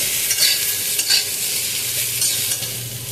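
Mixed vegetables for a festive-style Bengali shukto fry in a pan while being stirred, producing a steady sizzle broken by a few rhythmic scraping strokes of the spatula.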